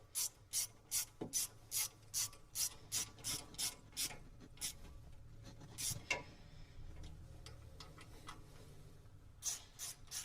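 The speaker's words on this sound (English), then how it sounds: "tighten them down using our 10mm socket." A ratchet fitted with a 10mm socket tightens screws on a riding mower's drive actuator, producing quick bursts of rhythmic clicking separated by brief pauses, fairly quiet and close, with no one talking.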